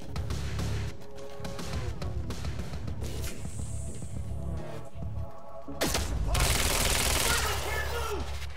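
Gunfire aimed at the player in Quantum Break, rattling bursts of shots mixed with game noise and thuds, growing louder and denser toward the end, with voices talking over it.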